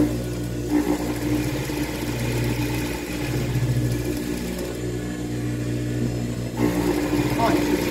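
A sewing machine runs a seam through elastic for a child's ruffled shorts, its motor humming in a steady whirring drone with a brief pause and restart near the end.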